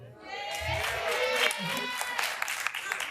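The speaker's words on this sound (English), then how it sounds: "Another round of applause" A school audience at a high school royal coronation breaks into applause that swells and carries some cheering. A voice briefly sounds over the clapping.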